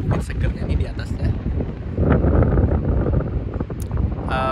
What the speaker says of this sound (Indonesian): angin segernya nih di atasnya